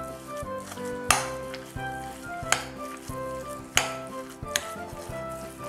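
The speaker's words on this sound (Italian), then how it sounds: "uniamo i 500 g di ricotta fresca che andrà spezzata" Fresh ricotta is broken up in a large bowl: a few soft squelching strokes spaced about a second apart, each ending in a light utensil tap against the bowl, close and quiet, with faint background music.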